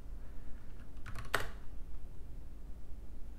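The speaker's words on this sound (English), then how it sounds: "Let's just type Logitech and see what we come up with." Brief burst of computer keyboard keystrokes typing the word Logitech, a quick cluster of clicks around the middle, fairly faint over steady room hiss with no talking.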